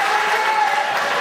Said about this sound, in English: I would actually like you guys to help me out with this one with another nice round of applause